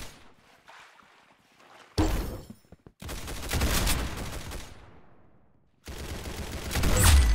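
Video game gunfire comes in loud, dense bursts with brief gaps, sounding like rapid automatic fire that cuts in and out over a noisy background.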